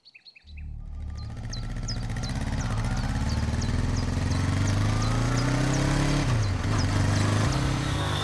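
An auto rickshaw engine starts up and pulls away, its steady close buzzing drone rising in pitch, with chirpy tones over it and no talk.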